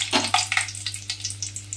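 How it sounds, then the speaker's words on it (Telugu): Four dried red chillies fry in warm oil in a pan on a stove, a close, steady sizzle with rapid crackling pops and soft stirring scrapes, no talking. "ఆయిల్ కొంచెం వేడెక్కిన తర్వాత 4 ఎండుమిరపకాయలు అయితే యాడ్ చేస్తున్నాను."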